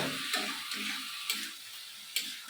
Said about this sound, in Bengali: এখন একটু এভাবেই কষাতে হবে